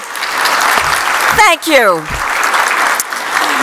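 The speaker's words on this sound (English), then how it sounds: "It is always amazing to get applause for that" Audience applause fills a conference hall at an annual summit as the emcee, a three-time cancer survivor, is clapped for; a steady broadband wash of clapping runs throughout while someone briefly speaks over it.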